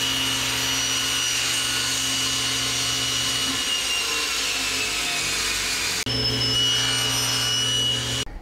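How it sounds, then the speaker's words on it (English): Table saw with a sled cutting through a threaded wooden dowel, a steady loud whine of the blade running throughout, with a brief dip and change in pitch partway as the cut finishes. "So with the table saw sled, I'm going to cut off a section of this dowel that we formed threads on earlier."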